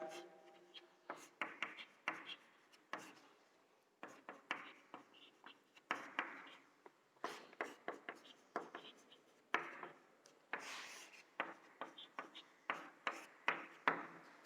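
Pen or marker strokes on a board or paper while a chemical structure is drawn, a long run of short scratchy strokes in irregular bursts, close and fairly quiet, with no talk over them.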